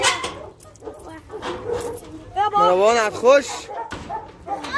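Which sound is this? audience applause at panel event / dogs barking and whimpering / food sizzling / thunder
dogs barking and whimpering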